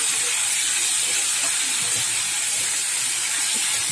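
Potatoes fry in a pan with a constant, loud, hissing sizzle that holds steady throughout, with no talk over it.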